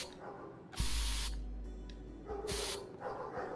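Two hissing bursts of a spray paint can in the video game Unravel Two, a longer blast followed by a shorter one, loud and close against a low rumbling game backdrop.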